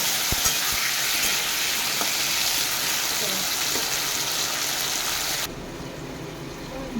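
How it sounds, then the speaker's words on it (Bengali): Potato slices and dry red chilies fry in hot oil in a pan, a loud, steady sizzle with a few scraping stirs near the start, then the hiss drops noticeably quieter for the final stretch. "শুকনো লঙ্কার ফোড়ন দেবো আলু কাটা দিয়ে দেবো আলুগুলো লাল লাল করে ভেজে দেবো"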